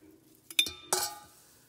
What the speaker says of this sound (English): now I'm literally just going to spoon it in